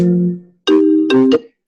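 A phone ringtone sounds loudly through a computer as a short melodic chime of several tones, one phrase fading and then a second two-part phrase following.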